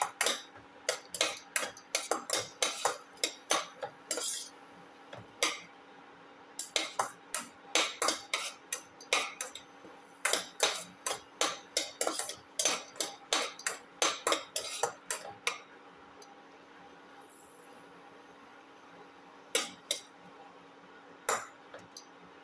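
Beef with ginger and shallots being sautéed in a pan: rapid bursts of sharp metal clinks as a utensil stirs and scrapes the pan, coming in busy clusters with short pauses between, close and moderately loud.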